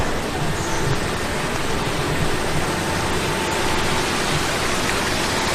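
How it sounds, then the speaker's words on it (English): Strawberry Creek flowing through a campus among redwood trees, a steady broadband rush of water that stays even and fairly close throughout, with no voices. "This is Strawberry Creek that runs through campus right here."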